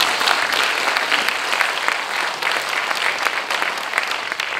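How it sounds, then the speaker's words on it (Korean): Warm, sustained applause from the audience at a university president's inauguration ceremony in Busan, dense and even, filling the hall at a loud, steady level throughout. "여러분 다시 한번 뜨거운 박수 부탁드리겠습니다"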